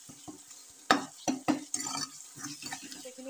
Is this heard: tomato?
yes